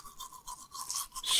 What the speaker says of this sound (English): we're gonna brush her teeth, right?